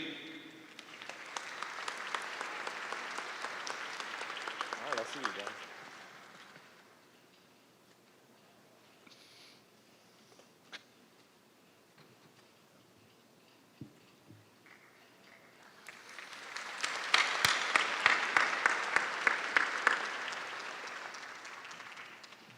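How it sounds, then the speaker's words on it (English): A university graduation audience applauds graduates in two bursts of crisp clapping, separated by a quiet stretch with occasional isolated claps and small thuds before the second, louder wave swells. "Another round of applause for these graduates."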